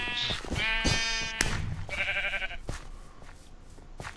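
A Minecraft sheep bleats several times in quick succession during a team game on a multiplayer server, each bleat a clear, wavering tone, followed by faint clicks and shuffling.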